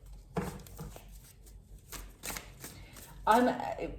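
Tarot cards being shuffled and handled in short rustling bursts, a brisk riffle near the start and a louder one toward the end, with quiet talking in between.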